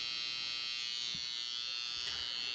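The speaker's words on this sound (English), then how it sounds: "So I start with the trimmer all the way side to side" Electric hair trimmer buzzing steadily at close range while cutting a mid skin fade haircut, a constant whine with slight shifts as it moves across the head, no talking.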